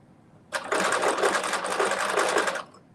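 A home sewing machine stitches a seam at a quarter-inch allowance in one loud, even burst of about two seconds that starts abruptly and then stops, heard on its own.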